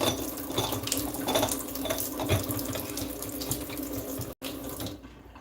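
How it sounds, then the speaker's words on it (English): Kitchen tap running steadily into a sink while dishes are washed, a continuous close splashing stream with a brief cutoff near the end before it resumes more quietly. "I'm about to do these little bit of dishes."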